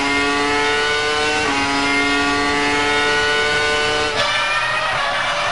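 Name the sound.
Formula 1 racing car engine, onboard nose camera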